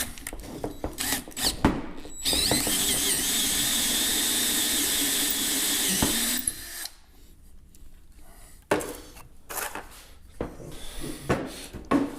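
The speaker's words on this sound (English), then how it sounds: "So we're just going to try and keep the drill bit as straight as we can, low speed, and just let her go." A power drill bores at low speed into a cylinder head, giving a steady, loud grinding whine that lasts several seconds. Short scraping and tool knocks come before it, and irregular clatter follows once it stops.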